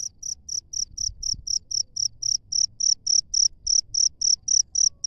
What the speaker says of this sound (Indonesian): itu jangkrik melondonya di dalam situ ya